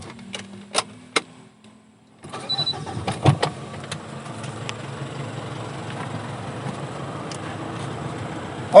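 A 2015 Mitsubishi Pajero Sport GLS manual with a diesel engine starts up after a few sharp clicks, then settles into a steady low idle rattle heard close and moderately loud.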